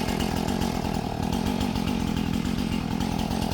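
A new Husqvarna 450 Rancher chainsaw runs outdoors during tree trimming, a loud, steady, buzzing drone close by that holds constant throughout, with no talking.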